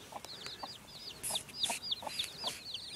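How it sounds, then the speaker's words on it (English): Mother hen clucking among her chicks, with repeated high chirps from the young birds and several louder clucks from the hen, close by and steady throughout. "this mom and her babies, she is the most violent chicken I've ever raised"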